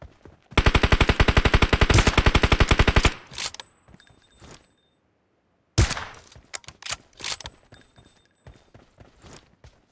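Gunfire in PUBG Mobile: a loud, rapid automatic burst of about two and a half seconds, then scattered single shots and footsteps, a short silence, and a few more sharp shots and thuds, with no talking.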